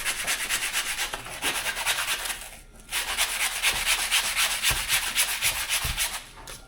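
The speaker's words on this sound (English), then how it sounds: "So I have sanding blocks. So I think what I'll do is see if that won't help me sand this down some more." A sanding block rubs back and forth along a turkey feather quill, a steady rhythmic scratching of repeated strokes heard up close, with a brief pause midway.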